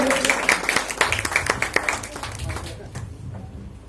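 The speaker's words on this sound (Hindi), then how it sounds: "जोरदार तालियां मिश्रा सर के लिए" Applause from an event audience for a speaker sounds as rapid, dense clapping at moderate loudness that gradually thins and fades after about three seconds, with a voice over it.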